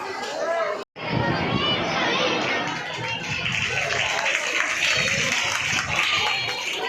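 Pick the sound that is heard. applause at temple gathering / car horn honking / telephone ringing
applause at temple gathering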